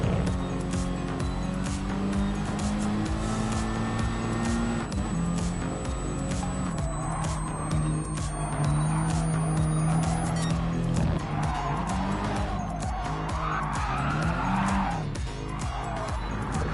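Race cars in a video game roar continuously, engine pitches climbing and dropping through gear changes, with tire squeals and skids cutting in over the loud, unbroken engine noise.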